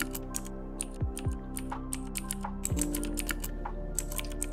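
Typing on a computer keyboard during an MTA:SA game session: quick, irregular key clicks, fairly close but quiet, with a few heavier thumps and a steady low hum underneath, no talk.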